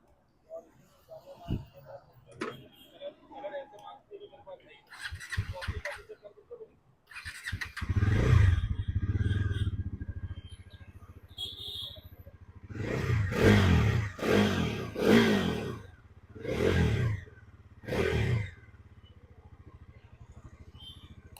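A Bajaj Pulsar NS 400Z motorcycle starts after some handling clicks, then idles with a deep rumble and is revved in several loud, separate blips, close by.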